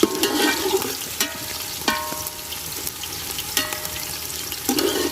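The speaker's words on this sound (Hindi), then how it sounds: "इसको तब तक भूनेंगे जब तक ये गोल्डन नहीं हो जाता।" Onions frying in a pan until golden for aloo matar pulao, with a continuous sizzle broken by several sharp clinks and scrapes of a stirring spoon, close and without talk.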